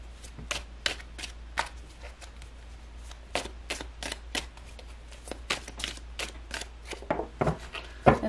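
Tarot cards being shuffled in a reading: a steady run of crisp, papery riffles and slaps, fairly close and quiet, repeating every half second or so with no talking.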